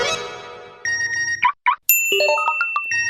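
Phone notification tone for an incoming video message from a group chat, a bright melodic chime sequence of several rising and falling electronic notes, loud and clear with no talk.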